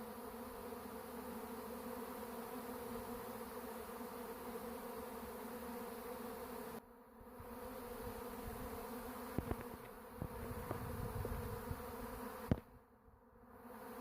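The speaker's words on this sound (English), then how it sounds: "There are a lot of bees up there by the tree already. I mean, this is a massive swarm." A large honeybee swarm drones steadily around a backyard tree, a dense continuous buzz with a few brief rustling bumps and dips toward the end.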